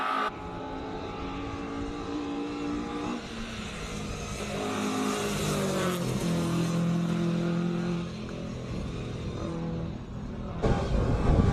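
A classic Ford Escort race car with a 2-liter Pinto engine races at a classic car meet in Cape Town, its engine revving and droning through gear changes, loud and close, then pulling away.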